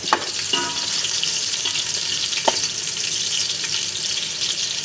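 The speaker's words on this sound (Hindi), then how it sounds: "तो इसमें डालेंगे प्याज को अच्छी तरीके से मिक्स करते हैं" Chopped onions frying in hot oil while being stirred, a dense, even sizzle up close with a few brief clinks of a spoon against the pan, and nobody talking.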